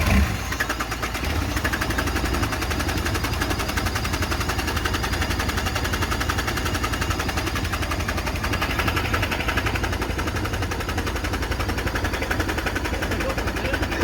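A hot-wired Peugeot car engine runs steadily and close by, a continuous rough, even drone that holds from start to finish.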